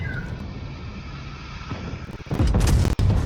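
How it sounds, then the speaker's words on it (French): A tank cannon fires in the World of Tanks Blitz video game. Engine rumble and battle noise build to a heavy booming blast near the end, followed by a brief cut and more rumble. "Ah, j'ai tiré dans le buisson."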